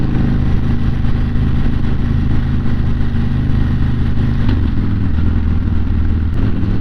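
Motorcycle engine while riding on a road trip through Brevard, a loud steady low rumble with constant wind and road noise throughout and no talking.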